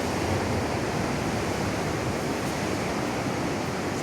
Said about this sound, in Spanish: mirad lo que pasa, cómo se abre el mar